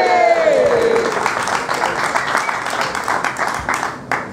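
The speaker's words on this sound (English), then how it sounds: "let's hear a cheer from everyone." Wedding guests break into a burst of clapping and cheering during the reception speeches, a brief voice rising at the start before the sustained applause carries on at moderate volume.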